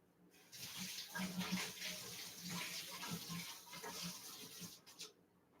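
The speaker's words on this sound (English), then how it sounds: "Okay, so let's just rinse this off." A measuring spoon rinsed under a running kitchen tap, the water gushing and splashing steadily and close for several seconds before it shuts off, with no voices.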